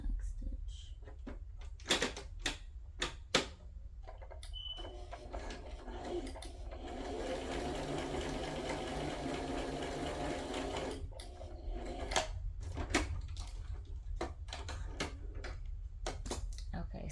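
A sewing machine runs a zigzag stitch on shabby fabric in one steady mechanical whir lasting several seconds, with clicks and handling knocks before and after it.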